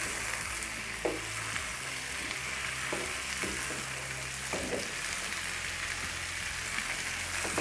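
Cut okra frying with onion and tomato on a flat tawa, a constant close sizzle and crackle with a few soft stirring scrapes, no talking.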